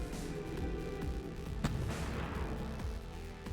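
A heavy plasma cannon hit in the naval combat game From the Depths, one deep booming impact over a constant roar of battle, with rumbling blasts continuing around it and no voices.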